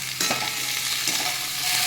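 Mixed vegetables with capsicum sizzle loudly in a pan, a dense continuous frying hiss with a few scraping stirs of a spatula, close up and with no talking.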